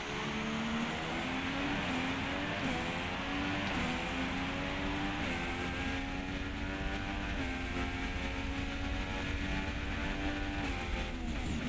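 A Formula 1 car engine in the video game F1 2016 drones steadily, its pitch climbing and dropping as gears shift repeatedly, a continuous mechanical whine with no talking; the engine is worn.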